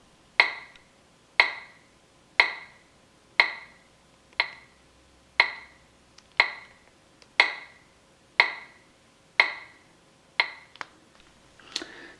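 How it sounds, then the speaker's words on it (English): Magnetic field pulses from an analog resin Casio watch, picked up by a telephone pickup coil, tick sharply and evenly about once per second, close and clear against a quiet background. "So you can see that noise is actually the magnetic field."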